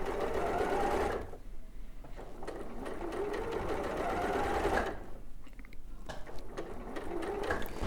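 A sewing machine stitches patchwork quilt pieces into a partial seam, its rapid mechanical whirr running loud and steady in two long bursts separated by a short pause, close to the listener.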